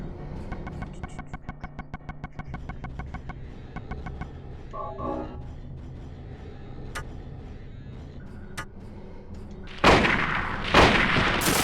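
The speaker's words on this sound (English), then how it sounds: "So we have to use a gun." Gunfire from a gun in the Silent Hill video game: a few sharp, loud shots arrive near the end, following a stretch of steady rhythmic in-game music and scattered faint clicks.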